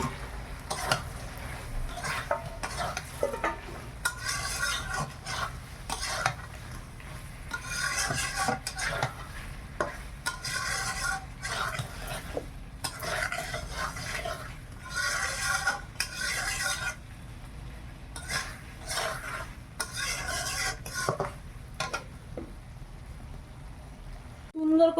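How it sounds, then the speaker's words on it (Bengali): Boiled prawns are stirred into fried spice masala in a pan, making repeated rhythmic scraping strokes in steady bursts over a low background with a faint sizzle. "এবার চিংড়ি মাছগুলো দিয়ে দেবো।"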